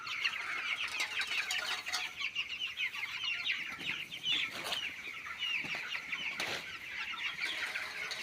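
Chickens clucking on a free-range poultry farm, the flock about eighteen days old: a continuous dense chorus of small clucks and peeps, fairly close, with occasional louder bursts and faint wing flutters.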